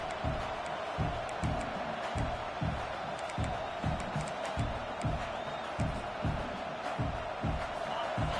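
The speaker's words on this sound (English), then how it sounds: "This crowd bringing the energy and noise early." A large stadium crowd roars continuously in the distance, a steady wall of cheering with rhythmic thumping beats underneath.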